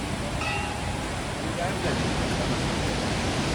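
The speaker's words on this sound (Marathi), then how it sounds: "एवढ्या फोर्सने एवढं लाखो लिटर पाणी या गुफेतनं बाहेर येतं आहे" Powerful, constant rush of water gushing out of a cave at the Saraswati river source near Mana village, Badrinath, a dense wide roar that fills the space evenly from start to finish.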